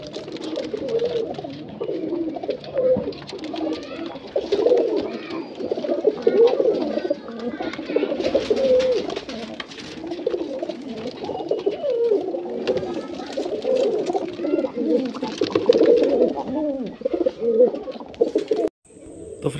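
A flock of pigeons kept as high-flyers cooing continuously in overlapping, throaty murmurs, close and fairly loud throughout.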